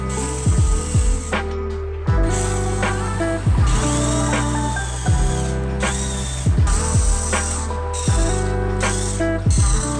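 A handheld drill machine fitted with a 1.5 mm bit bores holes in a piece for a DIY rechargeable RC car, its motor whining steadily and rising in repeated bursts with clicks as each hole is drilled.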